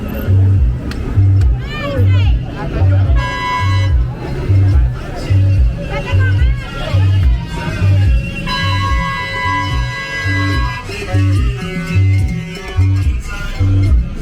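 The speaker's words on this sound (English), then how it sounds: "Loud crowd over here." A loud street carnival crowd in San Pedro de Macorís, Dominican Republic, with a thick hubbub of voices and shouts under pounding, rhythmic music that drives on without a break.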